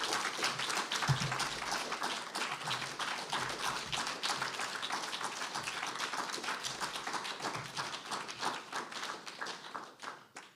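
An audience applauds after a poetry reading at a faculty presentation, steady dense clapping from a modest crowd that continues evenly and thins slightly at the close.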